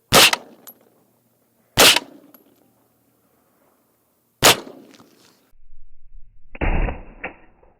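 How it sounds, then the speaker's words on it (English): Three loud, sharp 9mm subsonic hollow-point shots fired from an XTAR rifle into ballistic gel outdoors, spaced a few seconds apart with short decaying echoes, followed by a duller mechanical clatter near the end. "let's give it a try out of the XTAR with the subsonic ammo"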